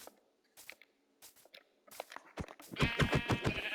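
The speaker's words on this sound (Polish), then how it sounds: "Dobra, że tutaj mam owce pod dostatkiem." Sheep in the Minecraft video game bleat several times in quick succession, the calls growing louder and denser toward the end, with no talking.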